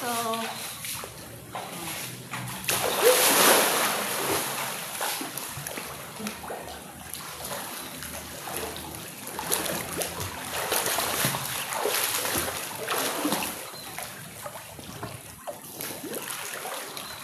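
Splashing and sloshing water in a warm outdoor pool fed by volcanic spring water, steady and close, with people talking over it throughout.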